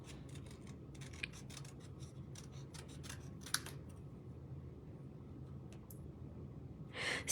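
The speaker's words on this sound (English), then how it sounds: "I'm gonna cut around it." Scissors snip around a paper heart for a handmade stamped card, a quick run of close, crisp cuts over a steady background hiss, with a brief rustle of paper at the end.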